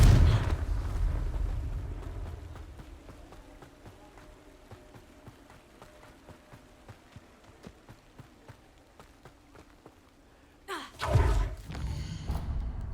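Confringo blasting-curse explosions in the Hogwarts Legacy video game: a loud fiery blast at the start, then a quiet stretch of soft rhythmic thuds, then a second sharp burst near the end.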